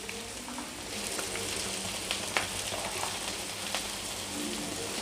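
Kerala fried chicken pieces sizzling in hot oil in a pan, a steady dense crackle with occasional louder pops, close and continuous with no talking.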